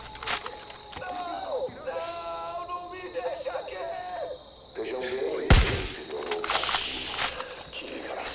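A gunshot goes off in the video game Far Cry 5, one sharp loud crack partway through, with a player talking over game sounds before and after it.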